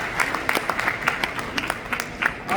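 Scattered clapping from a high school band winter concert audience, uneven and moderately loud with distinct individual claps standing out, thinning slightly as it goes.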